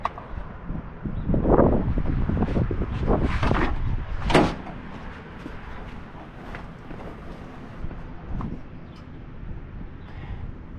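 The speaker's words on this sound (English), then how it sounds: "As we open the door" A 1979 Chevrolet El Camino's car door clunks and creaks open amid a few handling noises, followed by quieter rustling and low background wind.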